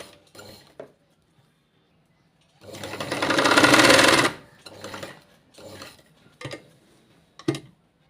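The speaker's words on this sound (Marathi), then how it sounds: "सगळ्याला आकार दिलेला आहे सेम त्याच पद्धतीने शिवून घ्यायचा आहे" A sewing machine stitches the back neckline of a blouse in several short bursts of whirring, with one long loud run in the middle and quieter stops and starts around it, no voices.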